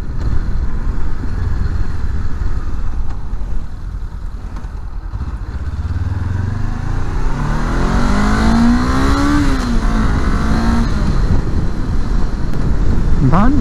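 A car engine revs up in rising and falling sweeps over steady road and wind noise, loud and close, with a brief lull before climbing again.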